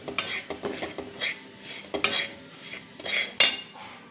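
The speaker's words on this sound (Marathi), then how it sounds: "भुलग्याचं पीठ आणि दोन चमचे तांदळाचं पीठ हे दोन्ही पण एकत्रच भाजून घेणार आहे" Horse gram and rice flour dry-roasting together in a pan over low heat, stirred with a metal spoon that gives quick repeated clinks and scrapes against the pan, close and continuous.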